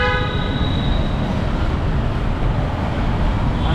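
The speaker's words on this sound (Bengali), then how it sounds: "আজকে প্রচণ্ড গাড়ি, প্রচণ্ড।" Heavy road traffic on a Kolkata street beneath the metro line, heard from a bicycle: a loud, dense roar of engines fills every moment, and a sustained car horn blares near the start before fading into the traffic wash.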